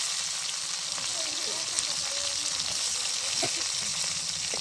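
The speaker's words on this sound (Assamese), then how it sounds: "এয়া মাছৰ আঞ্জা বনাব ওলাইছোঁ এয়া প্ৰথমতে পিঁয়াজখিনি দি লৈছোঁ" Onions fry in hot oil for a fish curry, giving a steady, even sizzle throughout, close and moderately loud, with a few faint clinks and a voice speaking briefly in the background.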